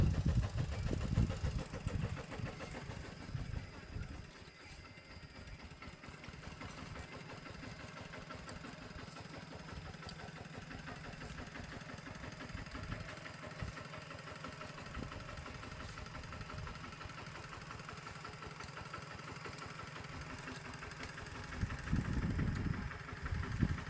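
A tractor works a field, leveling tilled soil into fine beds. Its engine drones steadily at a mid pitch for the whole stretch, with louder surges near the start and the end.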